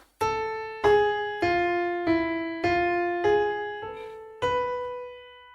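Bella Ciao melody played on a keyboard: eight clear, evenly spaced sustained notes, each ringing and decaying into the next, close and alone with no voices.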